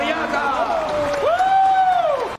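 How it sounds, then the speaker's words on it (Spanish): Audience applause for a contestant named Coriaca on an Asturias travel quiz show, a steady wash of clapping with rising whoops or cheering voices over it, loud and sustained before cutting off abruptly. "fuerte el aplauso para Coriaca"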